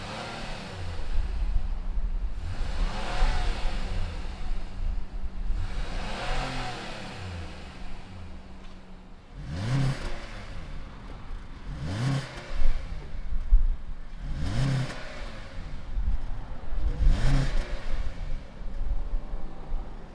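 Engines of a 2019 Honda Passport SUV and a 2019 Honda CR-V SUV start up, idle, then rev in a series of sharp throttle blips, close and loud with no talking.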